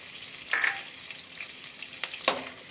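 Cashews drop into melted butter in a pan, giving two bursts of soft sizzling with stirring scrapes between, fairly quiet and close.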